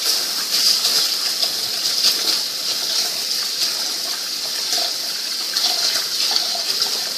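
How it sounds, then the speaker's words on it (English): Rice being washed for sticky rice, a loud continuous rush of water splashing and swirling close by, steady throughout with no voices. "so now my mom's just gonna wash the rice"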